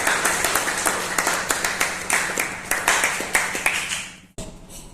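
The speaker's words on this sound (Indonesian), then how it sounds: "Aplaus untuk Mas Vio." A classroom audience gives a short round of brisk hand clapping, a loud rhythmic patter that repeats in small surges for about four seconds and then stops abruptly.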